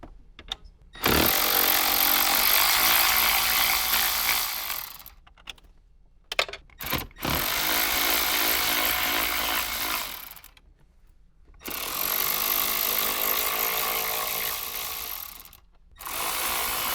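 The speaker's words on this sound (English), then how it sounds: "So my suggestion is an extension with your 10mm on the end. Go ahead and remove all 4 of those 10mm bolts." A ratchet on an extension works out four 10mm bolts inside a Toyota 4Runner during a subwoofer install, heard as several long, loud, steady whirring bursts of a few seconds each, broken by short pauses and clicks, with no talk.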